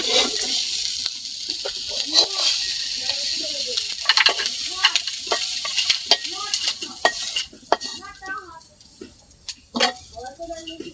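Crabs fry in a pan with no water added at a village kitchen, giving a steady crackling sizzle with repeated scraping stirs and clatter that turn sparser near the end.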